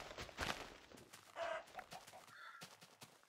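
Clucking from a chicken in Minecraft Beta 1.3_01, a few soft, low-level squawks that come and go over quiet in-game background sounds.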